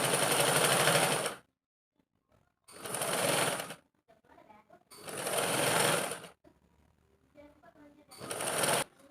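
A sewing machine stitching a princess kurti runs in four loud bursts of rapid, buzzing stitching up close, separated by quiet pauses in which someone speaks softly.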